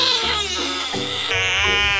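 A frog, one of the world's largest, gives a loud, wailing call that sounds like a crying child. It repeats in several continuous sobbing bursts, close and alone.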